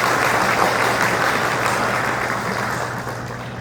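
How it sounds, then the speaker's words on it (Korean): Dense, steady applause from the crowd at a labor union rally, loud and continuous before it fades slightly toward the end. "박수 한 번만 다시 부탁드리겠습니다."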